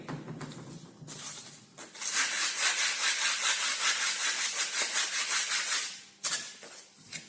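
Steady rhythmic scraping of sandpaper against metal, brisk and close, with brief pauses at the start and end.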